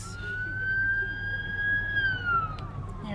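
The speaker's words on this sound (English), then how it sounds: "oh, ambulance." An ambulance siren passes on the road, its steady wail rising and then falling in pitch over rumbling traffic.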